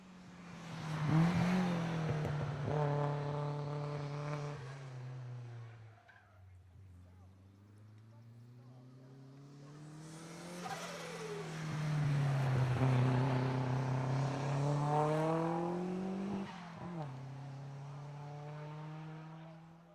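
A Micro Turbo street-legal car climbing the hill at Gurston Down hillclimb, its engine note rising through gears, dropping, then climbing again and passing loud and close, with a commentator speaking over it.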